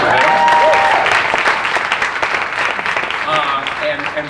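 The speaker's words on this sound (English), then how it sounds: "you can clap for them" Audience applause at a grantee showcase event, loud sustained clapping from a crowd with voices mixed in.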